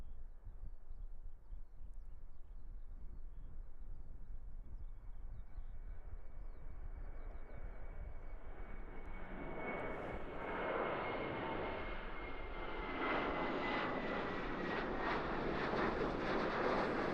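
A Qantas airliner, flight QFA138 to Sydney, takes off from Christchurch Airport in New Zealand, its distant jet rumble swelling into a loud, rushing engine roar.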